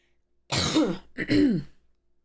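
Someone nearby clears their throat in two harsh, voiced bursts, close and fairly loud, with silence before and after.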